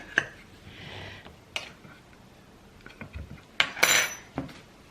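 Baking ingredients including baking soda and baking powder being mixed in a bowl, heard as scattered clinks and scrapes of a utensil against the dish, sparse and fairly quiet with pauses between strikes.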